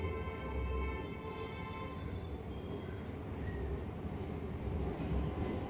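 Mumbai Metro Aqua Line 3 underground train rumbles steadily from inside the carriage, a constant low roar of wheels in the tunnel with a faint whine rising and falling over it, no one speaking.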